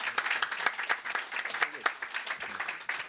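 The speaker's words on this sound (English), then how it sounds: "please join me, ladies and gentlemen, in giving the panel a round of applause" An audience at a policy briefing claps for a discussion panel, a busy wash of applause with distinct individual claps standing out close by, sustained throughout.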